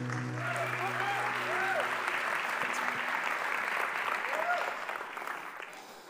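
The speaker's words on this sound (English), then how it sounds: "Give him a big round of applause." A church congregation gives a loud, sustained round of applause to welcome the pastor onto the stage at a morning service. Some cheering voices mix in, and the clapping tapers off toward the end.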